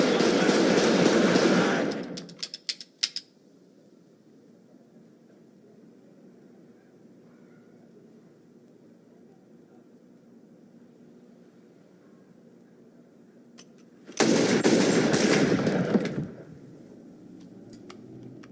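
Gunfire in the video game Max Payne: a dense, loud burst of rapid shots at the start, a long quiet stretch of low ambient hum with a few faint clicks, then a second heavy volley near the end.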